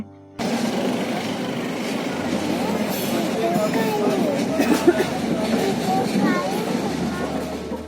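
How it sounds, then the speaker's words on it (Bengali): A train rumbles along at low speed onto its track near Ishwardi bypass, with steady clatter and rattling, while people talk in the background. "এখন নামার পরেও একটু স্লো এখন আগের লাইনে ঢুকে যাচ্ছে"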